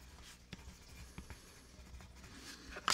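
Colored marker or pencil scratching out a name on paper for a 3D zentangle drawing, a faint, soft patter of short strokes close by, with a sharper scrape near the end.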